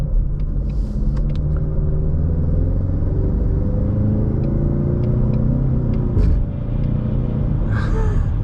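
A brand-new 2021 Ford Mustang EcoBoost base model with only 8 miles on it, heard from inside while driving gently: a steady low engine drone and road rumble with mild rises in pitch, continuous and close, with no talking.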